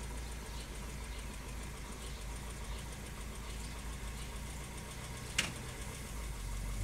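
A 1967 Citroën DS runs steadily while backing up outdoors, its engine giving a low, even idle-like hum with faint vibration, fairly quiet and distant, plus one brief sharp click near the end.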